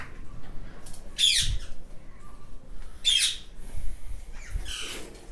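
Ringneck parrots squawk at a breeding farm, with three harsh, loud calls spaced about two seconds apart over quiet background rustle and no speech.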